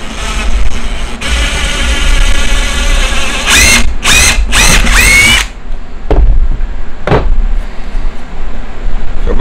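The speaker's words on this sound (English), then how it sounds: "Basically, I got me two holes drilled all the way through so I can have pilot holes." A power drill whines loudly while boring pilot holes through a wooden rocking chair rocker, one long run followed by several short bursts and a brief final pulse, close to the microphone.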